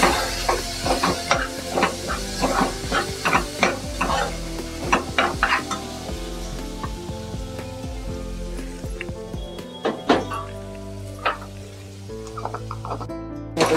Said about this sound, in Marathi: चांगलं ढवळून घेतलं चण्याची डाळ